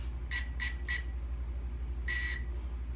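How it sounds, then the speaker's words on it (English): Hobbywing 1060 brushed ESC used as a winch controller, giving three short evenly spaced beeps followed by one longer tone when powered on, clear over a steady low hum. "You'll hear 3 beeps, which tells you the cell count, and then you'll get a different tone that actually tells you the winch is armed"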